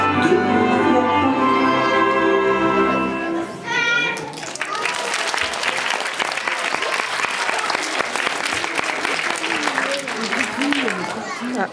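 Sung music with sustained tones fades out as audience applause breaks in and continues as steady, dense clapping for several seconds, with some voices mixed in.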